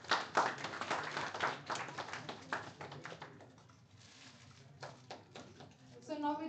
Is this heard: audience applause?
yes